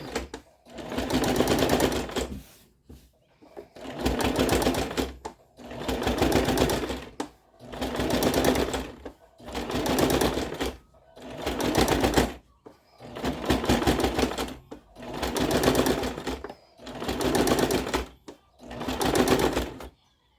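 A sewing machine stitches a rug with pink tones and little pointed edging, running in about eight loud, steady bursts of a couple of seconds each, separated by brief pauses.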